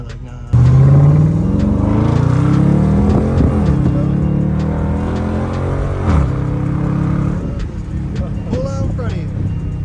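A supercharged C6 Chevrolet Corvette engine revs up from a sudden start, its pitch climbing and dropping through gear changes with a steady loud droning tone and supercharger whine, while people talk over it.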